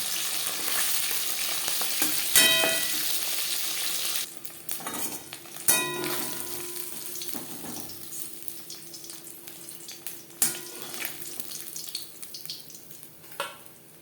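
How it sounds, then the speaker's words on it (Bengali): Pabda fish frying in shallow oil, a steady close sizzle with occasional metallic clinks and scrapes of a spatula in the pan, no talk. "অপর সাইডটা উল্টে দেবো পাবজা মাছ নরম মাছ আমি একটু কড়া করেই ভাজলাম"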